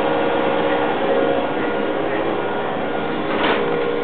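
Metal machining in a workshop produces a steady, continuous mechanical whir with a faint rise near the end, close and unbroken, with no talking.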